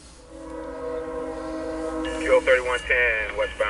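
CSX Q031 intermodal freight train approaching on the westbound track, with a sustained low rumble and a loud multi-tone horn sounding in short blasts near the end, fairly close.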